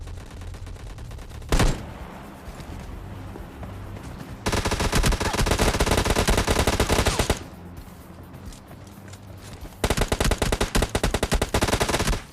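Gunfire in PUBG Lite gameplay: a single sharp shot followed by two long bursts of rapid automatic fire separated by a quieter gap, loud and close.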